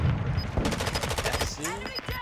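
Rapid automatic gunfire in Call of Duty: Modern Warfare 2 on the Black Gold map, a loud burst of evenly spaced shots filling most of the clip, with a brief game voice near the end.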